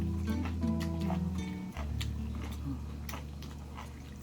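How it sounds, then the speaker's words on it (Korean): Crunchy chewing of fresh, natural seaside food served as a seafood meal in Jindo: close, repeated bites and crisp crunches over a steady tonal hum in the background. "식감이 아주 오독오독오독."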